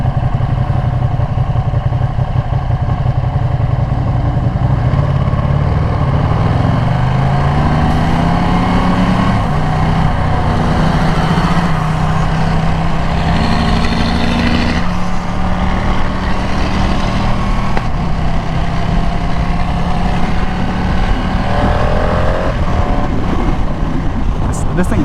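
A rare Ducati motorcycle engine runs loud and continuous for the whole stretch, its pitch rising and falling with the throttle, while someone talks over it.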